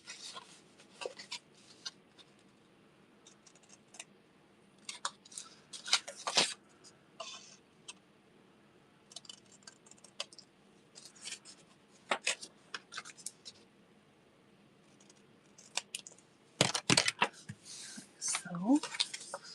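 Scissors snip and paper rustles in short bursts while trimming paper for a junk journal, close and quiet, with someone talking intermittently between the cuts.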